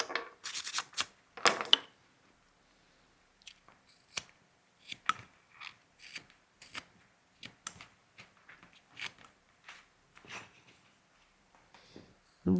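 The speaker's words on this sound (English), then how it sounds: "now we're going to carve off the surface for the beard here. Or if you have a semi-flat gouge, you do the same." Wood carving with a semi-flat gouge, shaving the surface of a carved beard: a long run of short, crisp slicing and scraping cuts at uneven intervals, close up, with quiet pauses between strokes.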